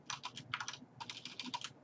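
Rapid clicks of a computer keyboard as a short all-capitals folder name is typed, in quick bursts of keystrokes with brief pauses, close and fairly loud with no talking.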